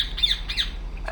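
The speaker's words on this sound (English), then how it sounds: "What the hell's up with that bird?" Bird in the video game Republique Remastered giving two quick sharp squawks, then a softer chirp, loud and close over a low steady hum, no talk.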